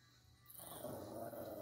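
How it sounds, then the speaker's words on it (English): Dogs growling as they play, a rough, noisy rumble that swells in partway through and holds steady, fairly close. "My dogs are playing"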